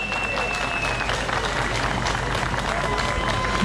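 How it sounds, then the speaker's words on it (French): A crowd applauds a tribute in Paris's 19th arrondissement honouring Lounès Matoub, steady dense clapping filling the room for several seconds, moderately loud with no break. "Applaudissez-le, lui."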